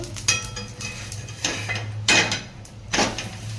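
A metal plate is set over thalipeeth cooking on a pan, giving a few clear metallic clinks and knocks at uneven intervals. A low steady hum runs underneath, and the sounds are close by and moderately loud.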